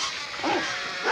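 A dog barks and yips a couple of times at a distance, faint against a steady background hiss.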